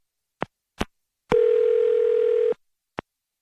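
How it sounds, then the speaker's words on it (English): A telephone line gives a steady dial tone for about a second, framed by sharp clicks of the handset and dialing before and after, with no talk. "I'm going to dial his phone number right now"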